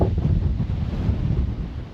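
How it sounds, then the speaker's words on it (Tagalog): Strong wind roars and buffets the microphone in heavy, rumbling gusts, loud and close, with no talking. "biglang lumakas ang hangin."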